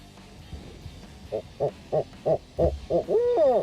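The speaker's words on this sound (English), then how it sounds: "Awesome footage of this owl." At dusk an owl hoots in reply with a steady run of six or seven evenly spaced, moderately loud hoots, ending in a longer, wavering call.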